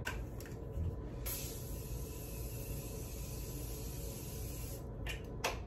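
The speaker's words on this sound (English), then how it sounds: "I'm going to be using the Morphe setting spray" A faint, steady misting spray of makeup setting spray hisses quietly for several seconds, with a couple of soft clicks near the start and end.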